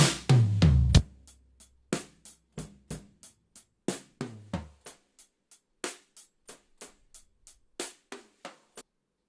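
A drum kit heard through overhead microphones with the lows cut: a few heavier opening hits, then a steady run of crisp, bright cymbal and drum strikes that decay quickly, thin in body and fairly quiet, with no voice.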